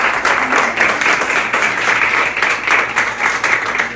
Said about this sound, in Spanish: ¿Cuánto le puede dar un aplauso al Señor por eso?